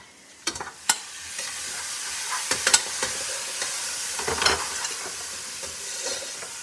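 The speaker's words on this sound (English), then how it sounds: "So mix it very well all together." Khichari with celery is stirred in a pan over the heat, with a few sharp utensil scrapes and knocks against the pan above a steady, close sizzle.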